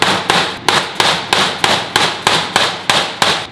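A hammer strikes a chisel against the lock of a locked safe inside a storage unit, landing about nine loud, sharp metallic blows at a steady beat, each with a short ringing tail, close up and with no talking.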